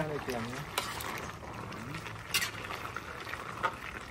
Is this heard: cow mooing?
no